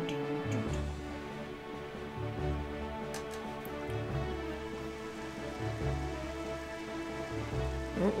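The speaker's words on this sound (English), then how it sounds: "We got some rain." Rain falling in The Legend of Zelda: The Wind Waker, a soft, steady patter of drops under a low, pulsing game music drone, with no voice heard.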